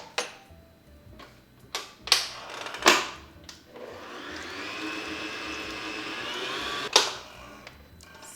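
A stand mixer with a paddle beats gluten-free oatmeal raisin cookie dough in a deep bowl, a steady motor whir running for several seconds after a few sharp knocks and clatters.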